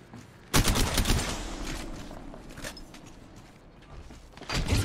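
Gunfire in the mobile shooter Apex Legends Mobile, heard as bursts of rapid automatic shots that start sharply and keep going through the middle, loud and close, with a fresh volley near the end and no talking.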